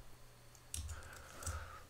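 Light typing on a computer keyboard, two short clusters of soft clicks against a faint background hum, close but quiet.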